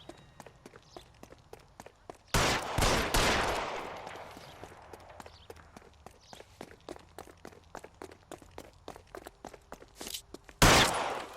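Gunfire in the LA Noire video game during a police chase: two loud, dense bursts of shots stand apart, with quick, regular footsteps running steadily between them.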